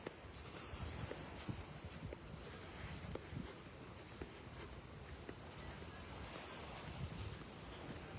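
Ocean waves break and wash along the shore on a beach in North Naples, Florida, a steady surf roar mixed with wind noise on the microphone, continuous and fairly close throughout.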